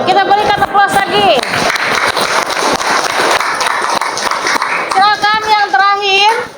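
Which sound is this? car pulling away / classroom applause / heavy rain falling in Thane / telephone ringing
classroom applause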